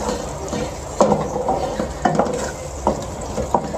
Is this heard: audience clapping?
no